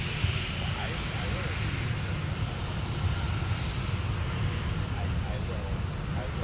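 A jet airliner roars steadily on a runway at Minneapolis-Saint Paul airport, a constant low engine rumble that holds level throughout.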